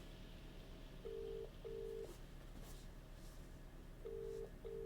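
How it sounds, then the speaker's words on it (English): Phone ringing in the video game Contradiction: repeated electronic ring bursts in pairs, each about half a second long, steady and moderately clear over a quiet background. "Pick up the phone"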